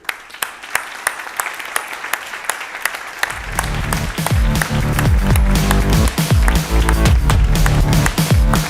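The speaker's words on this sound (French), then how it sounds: "On va encore les applaudir pour leur donner du cœur à l'ouvrage" Sparse individual claps at a business conference panel swell after a few seconds into loud, dense audience applause that continues to the end.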